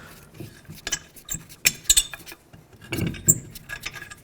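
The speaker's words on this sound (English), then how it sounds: "Now you can take this lug nut off." A lug nut comes off the rear wheel of a 2002–06 Toyota Camry with scattered close metallic clinks and rattles and a brief low scrape, all without speech.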